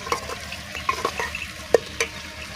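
Tomatoes and eggplant fry in a pan with a soft, steady sizzle while a utensil stirs them, giving scattered scraping clicks and taps against the metal. The sounds are close and moderately quiet, with one sharper knock near the end.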